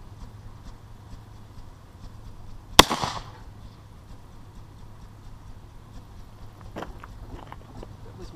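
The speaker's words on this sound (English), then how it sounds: "So first shot, conical through a smoothbore." A muzzleloader fires a conical bullet through a smoothbore barrel, one sharp loud crack with a short echoing tail outdoors, followed by quiet ambient noise and faint distant clicks.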